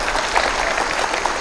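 A brief burst of dense, steady clapping from a crowd at a Hindi comedy poetry gathering, lasting just over a second.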